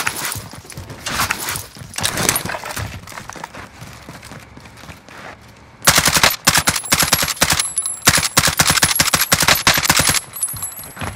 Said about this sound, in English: I put a few scare shots in the tower.